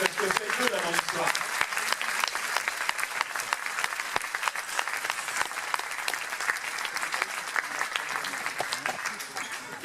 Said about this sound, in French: Je peux l'applaudir aussi Jérémy parce que c'est deux là dans l'histoire.